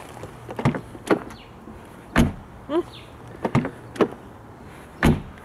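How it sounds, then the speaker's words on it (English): Doors of a 2015 Mercedes-Benz C-Class W205 sedan opening and shutting, heard as several separate close thumps and latch clicks spread over a few seconds, with no talking. "let's listen to this door sounds"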